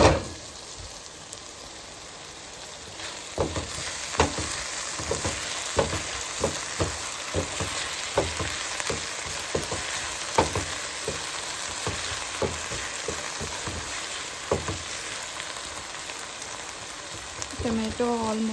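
Tomatoes fry in a pan while being stirred, giving a steady close sizzle punctuated by regular scraping and clicking strokes of the spoon, with faint voices in the background.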